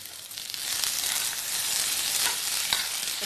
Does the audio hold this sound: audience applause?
no